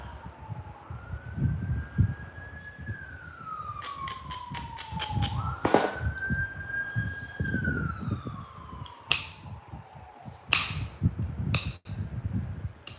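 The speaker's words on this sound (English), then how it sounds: "Ambulance, ambulance. Ambulance." A siren rises and falls in long wailing sweeps, moderately loud, over a constant low rumble and rapid sharp clicks and taps close by.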